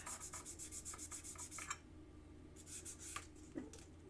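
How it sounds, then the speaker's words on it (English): Wet-dry sandpaper rubbed against a broken sterling silver piece gives a rapid series of short, close scratchy strokes, then a pause and a few more rasping passes with light clicks. "I wet the sandpaper because I am using wet dry sandpaper."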